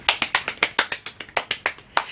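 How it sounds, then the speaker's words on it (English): A small round of applause from a few people in a home setting, about a dozen sharp, evenly spaced claps close by, quick and crisp, with no talking over them. "please give a warm round of applause"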